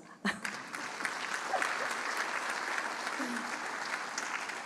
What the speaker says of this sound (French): Vous devriez applaudir à cela